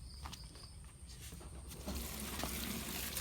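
Tap water runs steadily as field-grown water spinach is rinsed in a sink, a low continuous splash that swells louder about halfway through, with faint high insect-like ringing behind it.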